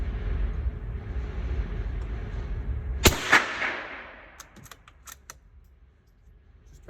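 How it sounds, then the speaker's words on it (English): A Ruger .22 precision rifle fires CCI Mini Mag rounds outdoors: one or two sharp, loud cracks in quick succession cut through steady background noise, then fade into quieter ambience. "let's go ahead and put 10 more rounds through her"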